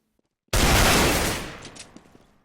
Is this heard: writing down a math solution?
no